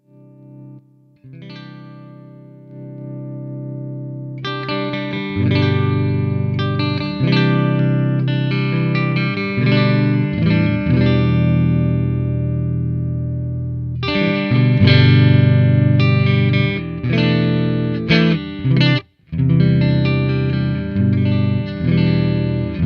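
Heavily distorted electric guitar played through an Amplitube 5 metal amp simulation, with chugging riffs and sustained chords separated by short pauses, loud and upfront.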